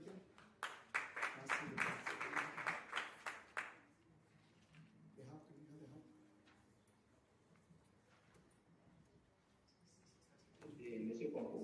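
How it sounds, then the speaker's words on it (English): A small audience at an incubator presentation claps in a short burst of sharp, fairly close individual claps that stops after a few seconds, followed by quiet room noise and talk. "Clap for him again."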